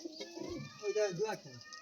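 Pigeons in a pigeon loft give soft, rolling coos at close range, partly under a person talking.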